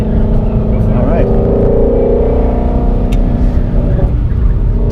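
A 2016 Shelby GT350R Mustang on track at Grattan Raceway, its engine a loud, steady in-cabin drone with a rising rev partway through, under people talking.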